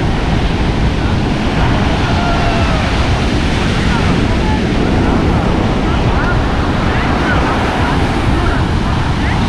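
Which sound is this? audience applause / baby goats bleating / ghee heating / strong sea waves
strong sea waves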